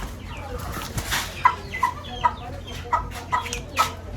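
A newly bought rooster of about 2.5 kg clucking nearby, a run of short sharp clucks spaced roughly every half second over low background noise.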